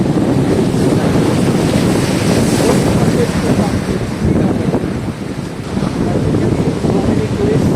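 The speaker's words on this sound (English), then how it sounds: "you see all the waves coming to this particular near about the beach" Ocean waves at Digha beach roll in as a steady, loud surf, with heavy wind buffeting the microphone throughout and a brief lull near the middle.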